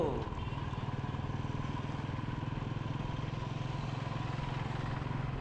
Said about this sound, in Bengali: আর বাইকে যাচ্ছি ফ্রেন্ডসদের সাথে